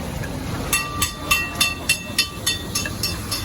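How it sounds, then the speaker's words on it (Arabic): A yellow tram at Misr Station in Egypt rolls past with a steady run of rhythmic clacks over the rails, about three per second, against a low rumbling street background. "ودي الترام الصفرا بتاعت محطة مصر."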